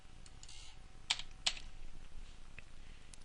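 Typing on a computer keyboard in quality-control data software, a sparse run of close keystrokes with two sharper, louder taps in the middle.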